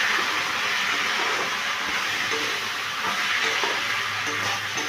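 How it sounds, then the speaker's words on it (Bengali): Spice paste and potatoes stir-fried in a pan, a steady loud sizzle with scraping and stirring running throughout. "আলুর সাথে মশলাটাকে ভালো করে আমি কষিয়ে নিচ্ছি।"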